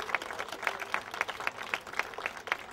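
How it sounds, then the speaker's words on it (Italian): An audience applauds at a charity music show, with clear, regularly spaced claps sounding close and moderately loud over a soft crowd backdrop for a few seconds. "propongo un grande applauso"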